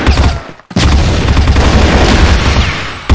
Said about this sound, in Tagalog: Toma essa granada aí!